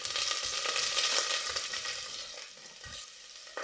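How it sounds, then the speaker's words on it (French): Fresh onions hit a hot pan and fry, a continuous close sizzle with occasional stirring scrapes and clatter, loud at first then settling a little quieter. "on va verser du coup les oignons"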